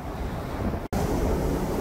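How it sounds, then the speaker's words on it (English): Strong wind on a container ship's deck buffets the microphone in a steady roar, cutting out for a split second before the rushing resumes. "It's a little windy outside"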